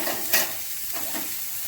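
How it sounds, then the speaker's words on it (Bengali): Cauliflower pieces sizzle and crackle in a hot pan, with a brief scrape of stirring near the start. "এই ফুলকপিটা একটু ভেজে নিই"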